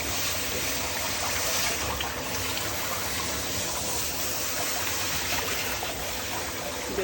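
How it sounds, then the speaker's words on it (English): Bath water running and splashing steadily while rinsing a baby's face, a continuous close wash of water without pause. "Do a little more rinsing on your little face."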